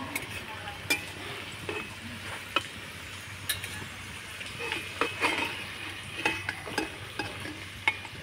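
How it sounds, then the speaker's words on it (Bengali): Saptapuri pitha pastries frying in hot oil give a steady, close sizzle, broken by frequent sharp clinks and scrapes of a utensil stirring in the pan. "এভাবে করে আমি পিঠেগুলো সব ভেজে নেব।"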